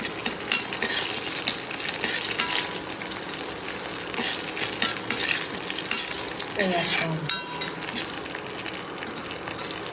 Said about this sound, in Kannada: ಇದು ಸ್ವಲ್ಪ ಫ್ರೈ ಆಗ್ತದೆ